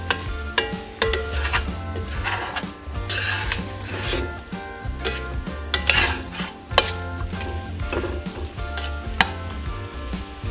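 Flour cooking in a pan until golden, with steady stirring and scraping over a soft sizzle, close and continuous with no talk.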